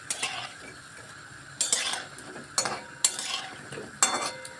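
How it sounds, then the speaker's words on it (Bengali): Fritters (bora) frying in hot oil for rasmalai are turned over repeatedly, so several sharp utensil scrapes and clinks sound against the pan over a soft background sizzle. "দেখুন বড়াগুলি আমি পাল্টে পাল্টে সুন্দর করে লাল লাল করে ভেজে নিচ্ছি।"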